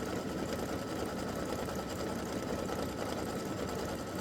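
Home embroidery machine stitching a turkey's tail feathers on a Thanksgiving quilt block, its needle whirring in a fast, steady mechanical rhythm without pause, close and constant.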